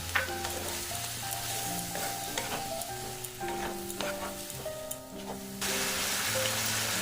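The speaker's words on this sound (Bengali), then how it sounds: "এরপর অল্প জল দিয়ে আমি মশলাটা ভালো করে কষিয়ে নেব" Mustard-chili masala sautéing with a little water in a pan, a constant bubbling sizzle with faint scrapes and a low tonal hum underneath, quiet and close, the frying hiss rising sharply near the end.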